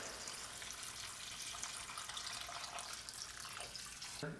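Water pours into a pot of oil-free vegan beet borscht, a steady close splashing rush that runs without a break for several seconds, then a brief knock at the very end.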